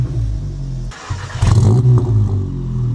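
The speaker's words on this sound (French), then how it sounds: "quand on démarre la voiture, voilà ce que ça donne" A Seat Leon Cupra engine cranks and fires up with a short rev, then settles into a deep, rumbling idle close by.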